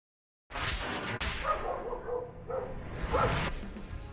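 A dog barks a few times close by, mixed with quick swishing and movement sounds, set against a busy background.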